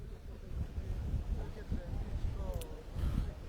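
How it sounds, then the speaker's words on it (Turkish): Strong storm-force wind during a factory fire in an industrial zone, roaring steadily and loudly across the whole stretch with low gusty rumble and buffeting against the microphone. "Ciddi anlamda fırtına denilebilecek şekilde rüzgar söz konusu."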